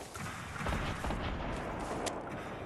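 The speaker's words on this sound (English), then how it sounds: "I'm getting shot at." Gunfire in the video game Fortnite during a high-explosives mode, a short run of muffled shots and booms over a constant noisy background, moderately loud with no talking.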